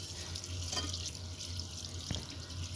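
Water runs steadily from a tap into a bowl of couscous to cover it for soaking, a continuous close splashing flow with a small clunk partway through.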